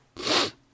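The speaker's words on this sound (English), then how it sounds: "I'll probably sneeze again because it feels like it." One close, loud sneeze lasting under half a second, a sudden breathy hiss that rises and fades, with quiet on either side.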